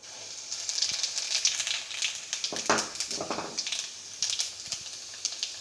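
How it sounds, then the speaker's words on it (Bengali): Whole cumin seeds sizzle in hot oil in a wok, a steady close crackling hiss with brief louder bursts of spitting throughout. "আমি এখন এখানে 2 চামচ গোটা জিরে দিয়ে দিচ্ছি।"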